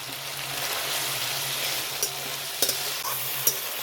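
Chopped tomato and spices sauté in a pan with salt, a steady broadband sizzle running throughout, with a few sharp scraping knocks from stirring near the end.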